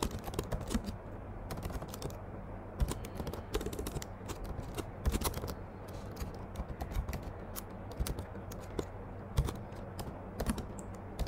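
A command is typed on a computer keyboard, producing quick irregular bursts of close key clicks with short pauses between groups, fairly quiet, with no voices.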